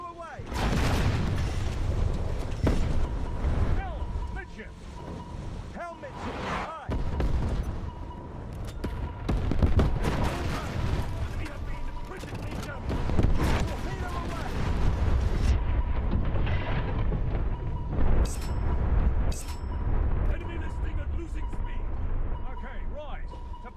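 Booming blasts and rumbling explosions from a submarine torpedo attack in War Thunder Mobile, loud and continuous across the scene, with shouted crew voice lines over the top.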